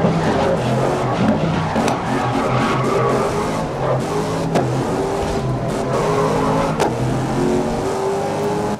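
A race car accelerates in the racing video game GRID (2019), its engine revving and climbing through gears in a loud, sustained drone with rising pitch sweeps.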